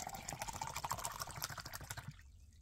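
Water is poured into a container to mix lemon sports drink powder, a faint, steady splashing trickle that stops abruptly near the end.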